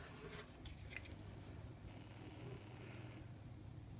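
Scissors snip through folded paper while a Dollar Tree Christmas mailbox is being made, giving a few crisp cuts early on over a steady low background hum, close and fairly quiet.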